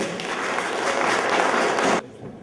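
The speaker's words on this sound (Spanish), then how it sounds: "Unos palmas, por favor" Steady applause from an audience at a university forum welcomes a speaker on Peruvian mining history, holding level for about two seconds before cutting off abruptly.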